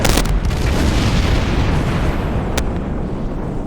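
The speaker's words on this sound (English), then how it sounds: "Then we have the guy who mentioned that it's about to explode." A Korat vessel blowing up in Star Trek Online: a loud, sustained roaring explosion with a sharp burst at the onset and a brief crackle later, rumbling heavily throughout with no talk.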